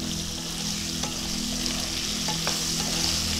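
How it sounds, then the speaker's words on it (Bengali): Potato pieces coated in salt and turmeric fry lightly in a pan over a high gas flame, making a constant close sizzle broken by a few sharp utensil clicks as they are stirred. "খুব ভালো করে আলুগুলো নাড়িয়ে চাড়িয়ে নুন হলুদটা যাতে সবটার গায়ে মেখে যেতে পারে সেইভাবে হালকা ভেজে নেব।"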